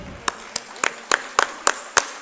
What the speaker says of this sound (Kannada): ಸೊ ಇವರೆಲ್ಲರಿಗೂ ಒಂದು ದೊಡ್ಡದಾದಂತಹ ಚಪ್ಪಾಳೆ.